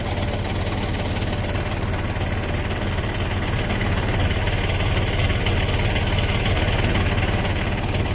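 A tractor engine runs a pesticide spray pump in a farm field, giving a close, steady, low droning rumble with a faint knocking texture that continues unbroken, with no voices.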